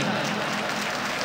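Audience applause at an all-India Urdu mushaira, a poetry gathering in Arvi, Maharashtra: a dense, steady wash of many hands clapping together, sustained at an even level throughout.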